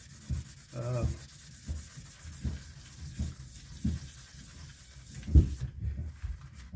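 Firearm metal being block sanded by hand with 1000 grit sandpaper: close, rhythmic back-and-forth rasping strokes in a steady cycle, with one heavier knock partway through and no talking.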